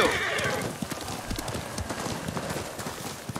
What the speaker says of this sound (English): Whatever, I like this horse.